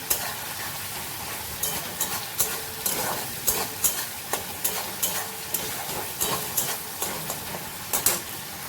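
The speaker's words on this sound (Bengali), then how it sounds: "একটু মানে মিডিয়াম আঁচে করে মশলাটা কষাচ্ছি" Spice paste with tomato sauce frying over medium heat in a pan for a paneer dish, a steady close sizzle broken by repeated scraping stirs at an irregular pace, with no talking.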